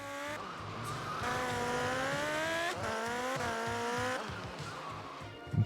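A Honda NSX in GTA Vice City Stories drives under load with a steady, sustained engine note that shifts pitch across gear changes. Tire noise runs beneath it, and the car is heard close and loud throughout.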